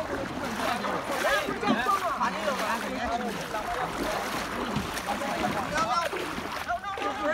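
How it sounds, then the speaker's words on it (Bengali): A relief boat moving through floodwater in a flooded village, with steady watery churning and splashing throughout and people talking over it. "নৌকা নিয়ে যাচ্ছি।"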